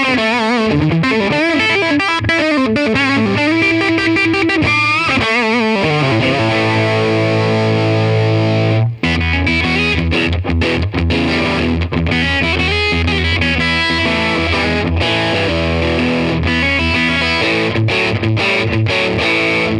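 Heavily distorted electric guitar played through a Fender 57 Custom Pro Tweed-style amp model pushed to the edge of breakup, loud sustained chords and riffs with a brief break partway, no talking.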